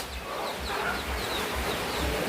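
Native hens with chicks clucking inside a bakery, soft repeated clucks and faint chick peeps over a constant background hum, close but not loud.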